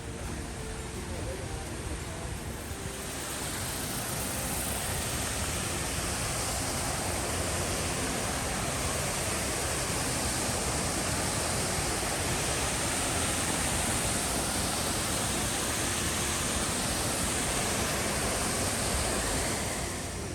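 Rushing water from a waterfall on an outdoor trail near Sophia, West Virginia pours in a steady, loud, broadband roar that fills the whole stretch without letting up.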